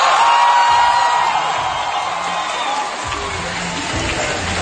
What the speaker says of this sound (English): Can we get a cheer for Breath of the Wild 2, baby?